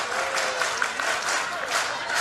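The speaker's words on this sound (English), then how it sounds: "Every fan on their feet, cheering on Carly Hoover, the freshman." Softball stadium crowd at an NCAA game between Oklahoma and LSU, fans on their feet cheering and applauding, a dense steady roar of clapping and cheers that fills the whole stretch.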